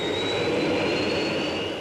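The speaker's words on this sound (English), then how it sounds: "The starting procedure's a bit slow because you've got to wind the thing up to speed." The gas-turbine engine of the Jet 1 car spins up with a steady, loud jet-like roar and a thin high whine holding across the whole stretch, with no voices.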